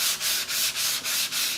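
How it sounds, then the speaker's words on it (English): Hand sanding guide coat off a car bumper: steady back-and-forth scrubbing strokes, about six in quick rhythm, close and fairly loud with no talk. "We just keep sanding, but we just keep going until you don't see any more of them."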